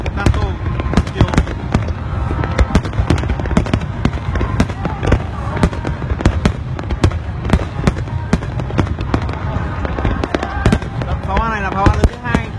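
Fireworks burst over the Sumida River in Tokyo during a large Japanese summer festival, a dense, rapid run of loud booms and crackles with crowd voices underneath.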